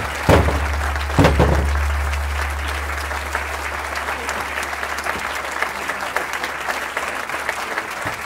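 An audience at a senior school exhibition applauds a team walking onto the stage. The clapping is sustained and even, with a couple of loud thumps near the start.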